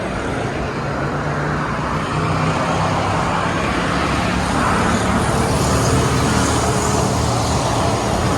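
A used car bought at auction pulls up with a continuous low engine and road rumble that swells slightly as it nears, with no talking.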